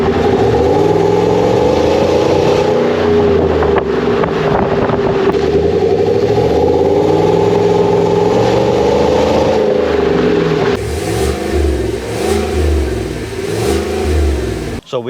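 A 2022 Chevrolet Tahoe Premier's 6.2 V8 rumbles loudly while driving, its pitch rising and falling as it accelerates and shifts, then settling into a quieter cruise toward the end.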